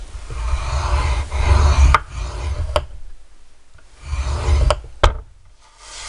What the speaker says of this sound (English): we are going to score it at 3 5/8 inch